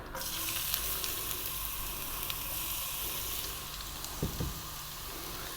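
Garlic and ginger sizzle in hot oil with star anise, a constant hissing crackle at close range, broken near the end by a couple of soft clunks from the pan.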